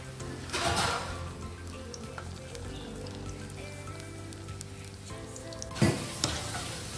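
Corn pakoda frying in hot oil, a steady, dense sizzle close by with a couple of louder bursts of crackling as pieces are stirred or added.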